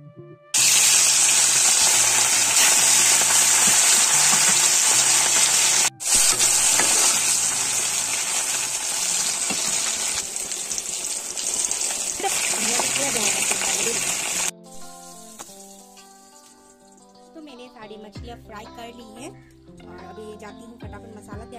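Fish frying in hot oil in a kadai, a loud steady sizzle and crackle that fades partway through, giving way to quieter bubbling, with background music and occasional talk.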